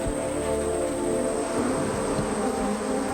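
A dense, steady buzzing of a swarm of killer bees, constant and close, with a high thin whine running through it.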